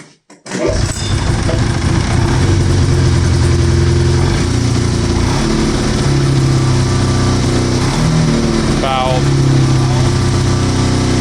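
A Yamaha Exciter 440 snowmobile engine fires up on its stand and runs loud and close for about ten seconds, its steady drone shifting pitch as it is revved, with faint voices in the background.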